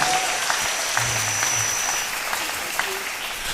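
Audience applause at an evening gathering, a steady wash of many hands clapping throughout with a faint tonal hum and brief voices beneath it.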